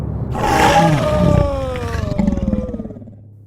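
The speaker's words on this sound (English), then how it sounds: "And then he roared very loud." A lion gives a loud, close roar that swells and fades into rumbling grunts, heard alone without talk.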